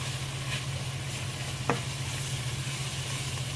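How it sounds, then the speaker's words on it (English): Sizzling onions, garlic, roasted peppers and mushrooms with soy sauce and chicken being stirred in a pan, a steady low frying hiss with one sharp utensil scrape partway through, no talking. "I'm going to mix this around."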